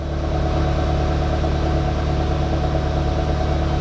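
A car engine idles steadily during a battery load test, a loud constant close hum with an even low throb and no change in pace.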